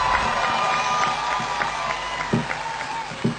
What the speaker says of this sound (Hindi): और उसके बाद भी ताली बज रही हो